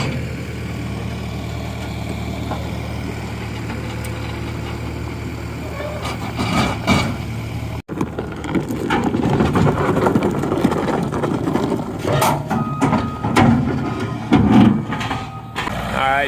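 A backhoe engine runs in the background as the machine is turned and pushed backwards up onto a trailer, a steady low rumble with clanks and knocks that grows busier in the second half.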